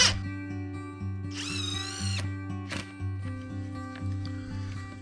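A power drill drives 3-inch screws into a workbench, a close steady motor whine with pitch shifts as each screw bites, in short rising bursts, with no talking.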